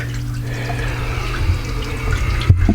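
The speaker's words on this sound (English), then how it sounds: "I also threw an gravel filter in it with a little extra pump just to get the water moving" Small aquarium gravel filter with an extra pump moving water in a tank for a baby anaconda; a steady low hum with continuous trickling and bubbling water, close and fairly loud, with no talk.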